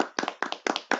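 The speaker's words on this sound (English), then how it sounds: "Let's clap it up for that." Four quick bursts of close hand clapping, each a pair of sharp claps, in an even rhythm over about a second.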